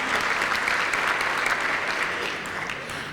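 Steady audience applause at an awards event, a dense even clapping sound filling the whole stretch without talk.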